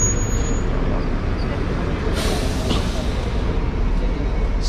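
Free shuttle bus to Masjidil Haram in Mecca: a steady engine rumble runs throughout, with a sharp hissing air-brake burst around the middle and another brief hiss near the end.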